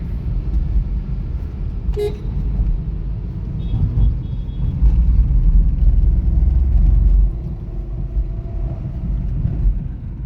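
A 2016 Honda City VX automatic CVT petrol sedan accelerates, heard as a loud, steady low engine and road rumble from inside the cabin that swells for a few seconds, with a short distant horn toot early on.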